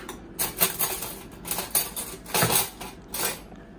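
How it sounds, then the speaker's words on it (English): Knife and fork cutting into a cooked egg with melted cheese on a plate, a series of soft irregular scrapes and taps of metal cutlery, close and fairly quiet, no speech. "And then you'll see when we cut into it"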